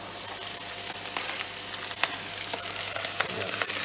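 Pieces of Arctic char fry in a hot pan, a dense continuous sizzle with scattered crackles and pops, close and steady for several seconds without any talking.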